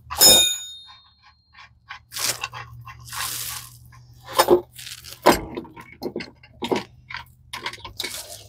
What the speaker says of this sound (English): Wrench falling on me.